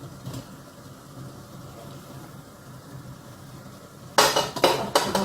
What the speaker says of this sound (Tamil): புட்டு பத்து நிமிஷம் ஆச்சு திறந்து பார்க்குறேன்